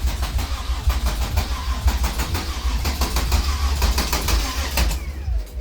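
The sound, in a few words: VR6 engine of a MK3 Golf being cranked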